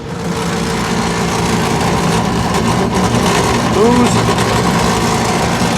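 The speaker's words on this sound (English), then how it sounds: "lousy inducer motor. Probably the bearings in it." Steady, loud drone of a failing inducer motor on an HVAC rooftop unit, probably with worn bearings, humming continuously with a short spoken word over it.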